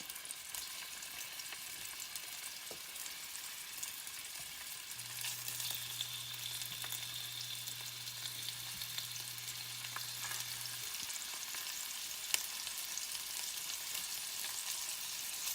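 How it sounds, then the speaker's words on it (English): Beef tips fry in a hot skillet with a steady, quiet sizzle and crackle, joined by an occasional sharp pop or tap of a utensil, and no voices. "Just frying this ahead of time and getting it a good charcoal brown helps give your dish a good flavor"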